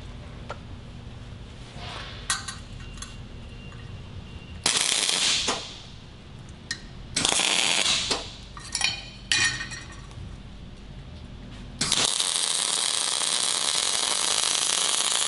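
A T-joint is welded up close, the torch giving a harsh crackling hiss in several bursts of a few seconds each, separated by quieter pauses with small clinks, ending in a longer steady buzzing weld.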